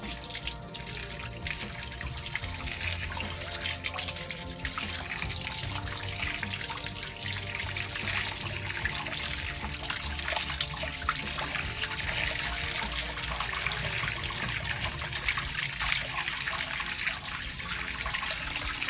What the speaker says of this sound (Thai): ล้างรากเขาก่อนนะครับ